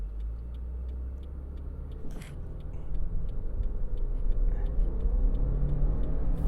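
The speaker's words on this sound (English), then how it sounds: "Finally the turbo has kicked in." A Subaru WRX S4's turbocharged engine builds into a steady, rising acceleration rumble heard from inside the car, with faint ticking running throughout and a brief click partway through.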